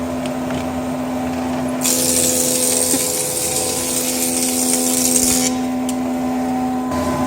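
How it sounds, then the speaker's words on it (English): A table saw rips one-inch-thick wood stock, its motor humming steadily before the blade bites in for a few seconds of louder, harsher cutting noise that then eases back to the idle hum. "then I'll rip the other 3/4 on the table saw."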